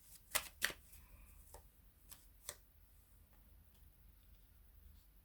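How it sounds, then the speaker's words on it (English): Tarot cards riffled and tapped in a few quick bursts, crisp and close, followed by soft handling noises in an otherwise quiet room. "let's shuffle the cards."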